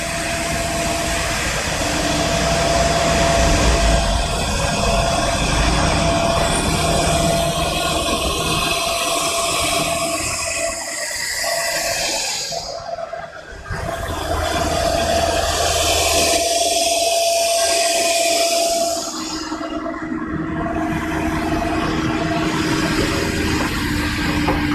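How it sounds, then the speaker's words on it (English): Three CNC routers run together in a woodworking production shop, a loud steady machine drone with a whining tone that dips briefly twice as cuts change, no voices over it. "we have 3 CNC routers."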